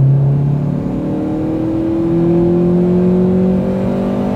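A Honda Accord Type R VTEC engine revs close by, its steady drone climbing gradually in pitch as it pulls through the revs.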